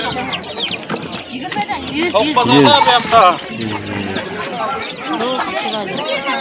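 Roosters and chickens cluck and call at a busy poultry market in Amudaryo, heard close under nearly constant bargaining voices and crowd chatter.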